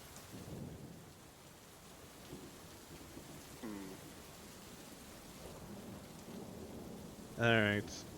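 Rain falling during a tabletop roleplaying game session, a soft steady hiss with low distant thunder rumbles, faint throughout, with a brief sharp noise near the end.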